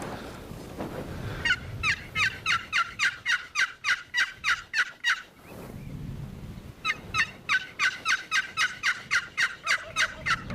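A wild turkey gobbles during a spring turkey hunt, letting out two long runs of rapid, rattling gobble pulses that sound fairly close and clear, with only quiet outdoor ambience between the bursts.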